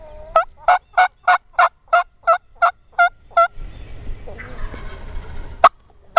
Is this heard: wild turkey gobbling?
yes